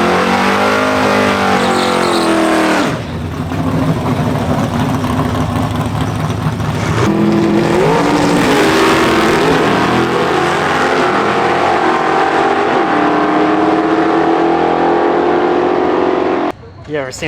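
A race car at a drag strip track, fitted with a new carburetor, revs loudly and close by, its engine roaring and shifting pitch in sustained bursts with a brief drop partway, while people talk over it.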